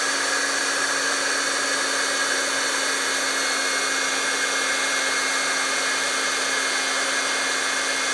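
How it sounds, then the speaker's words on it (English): Handheld craft heat tool blowing steadily while heat-setting embossing powder on a Valentine card, a constant loud whirring hiss with a fan hum, running alone and unbroken throughout. "I'm just going to bring up my heat tool. It'll be noisy for just a minute while I heat set the embossing powder."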